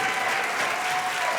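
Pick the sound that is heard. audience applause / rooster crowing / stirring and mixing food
audience applause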